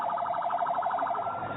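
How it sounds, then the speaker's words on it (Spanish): An emergency siren wails in Israel with a fast, warbling pulse, loud and continuous, with no voices over it. "las sirenas han sonado en diversas ciudades de Israel"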